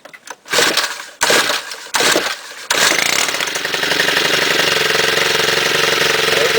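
A STIHL chainsaw engine is cold started: several short bursts of loud pull-cord cranking separated by brief silences, then the engine catches and settles into a steady, loud running drone.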